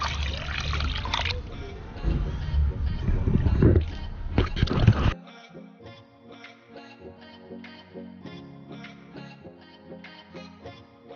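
Water poured into a pot of mackerel being cooked Jamaican style, a loud splashing gush lasting about five seconds before cutting off, followed by quieter kitchen sounds and soft background voices.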